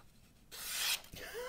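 A freshly sharpened knife slices through thin foam book paper with a soft, close rasping hiss that swells and then fades, quiet and alone.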